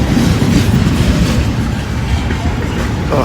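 A Conrail auto rack freight train rolls past close by, a loud, steady rumble of wheels and clattering rail joints filling the whole stretch.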